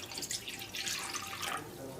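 Water pours steadily into a cooking pan on a gas stove for an Odia egg masala curry, giving a continuous close splashing hiss without speech.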